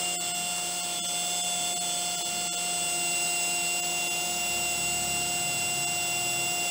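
Milwaukee M18 Fuel brushless compact router spinning steadily at its lowest speed, a loud continuous high-pitched whine with stable tones, running alone without a break.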